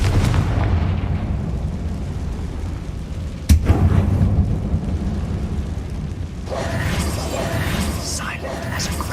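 A Confringo fire spell in Hogwarts Legacy lands with a sudden booming explosion, followed by rumbling debris and a rushing burst later on, all under a man's spoken lines.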